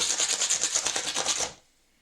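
A small brush scrubs paper bits out of a cutting die in quick rhythmic strokes, a close, bristly rasping that pulses about eight times a second, then stops abruptly into near silence.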